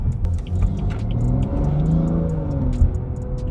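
A tuned BMW engine pulls under light throttle, its rising drone climbing steadily over a deep road rumble, heard from inside the car with no talking.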